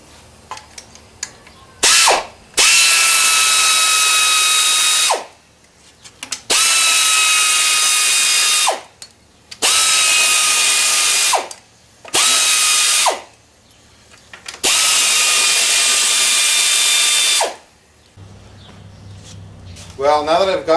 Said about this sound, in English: Next we're going to go ahead and take off our valve cover bolts.